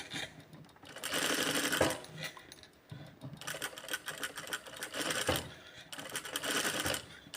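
Sewing machine stitching concentric circles on practice fabric, its rapid mechanical running loud and alone, broken by short pauses as the fabric is turned between bursts.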